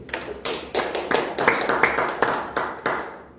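A small lecture audience claps in loose, separate bursts of hand claps, several spaced hits landing close together in an uneven rhythm, fairly near and moderately loud.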